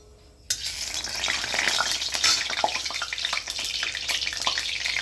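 Mushrooms frying in a pan alongside a home-cooked lati shutki dish, a steady sizzle that starts suddenly and crackles throughout, with scattered sharper pops and stirring scrapes close by.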